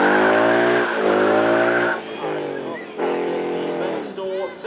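A car drifts on a race track at a supercar weekend, tires squealing loudly in long wavering tones that fade and return over several seconds, with someone talking over it.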